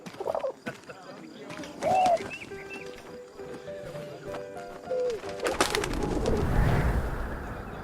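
Pigeon coos and a burst of wing flutter from a carrier pigeon being released in the video game 11-11 Memories Retold, over a soft game ambience with music-like tones, the fluttering rising loud near the end.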